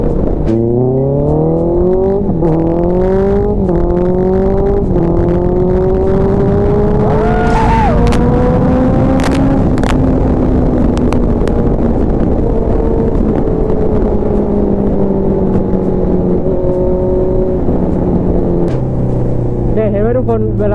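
A car with a rev-limiter-damaged engine drives into town along a road, its engine droning close and steady while the pitch climbs and drops through several gear changes.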